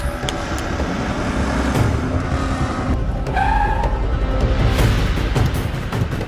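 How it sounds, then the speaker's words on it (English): A car skids with squealing tires and a revving engine during a staged car chase being filmed, heard close and loud as one sustained run of tire squeal over engine roar, with no talking. "Dude, car chase scene filming!"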